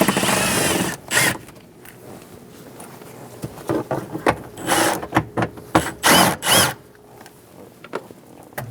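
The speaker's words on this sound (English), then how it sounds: "Using a 10mm socket, we're going to remove the 2 bolts for the trim piece" A ratchet working a 10mm socket on trim panel bolts inside a Chevrolet Express 2500 van gives rapid clicking bursts and metallic scrapes, close by, with pauses between turns and no talk.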